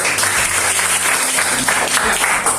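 A classroom of students applauds together in a loud, dense burst of clapping that lasts throughout.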